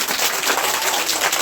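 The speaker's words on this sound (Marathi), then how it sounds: "टाळ्या वाजवा सगळ्यांनी" Steady applause from a group of children, many hands clapping together continuously and fairly loud, with no pauses, at a New Year celebration at a village school.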